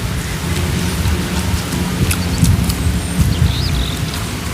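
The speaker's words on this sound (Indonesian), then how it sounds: "Hujannya tambah gede ya." Heavy rain pours down steadily in a loud, dense wash of noise with occasional brighter drips and splashes, continuous throughout with no voices.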